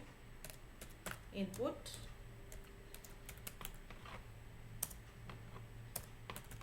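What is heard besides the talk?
computer keyboard typing code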